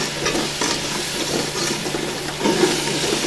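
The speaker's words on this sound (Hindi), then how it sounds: "अच्छे तरीके से फ्राई करेंगे।" Masala for chana dal with kaddu fries and sizzles in a pan, with stirring scrapes and bursts of crackle, and a louder hiss flares near the end.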